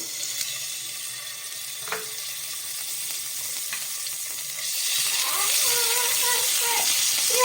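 Ghee heats in a hot pan for a winter-night vegetarian dish, giving a steady, bright hiss that swells noticeably louder and fuller partway through.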